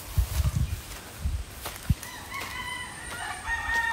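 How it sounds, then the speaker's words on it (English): Chickens on a one-hectare farm in Lipa City cluck in short, loud bursts close by, then a rooster lets out a drawn-out crow further off. "Oh, I saw some chickens"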